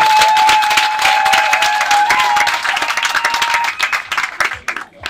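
A crowd at a customary Gabonese wedding applauds and claps together after the marriage request is accepted. The clapping is dense and loud, with a held high tone ringing over it, then it thins into scattered claps and fades.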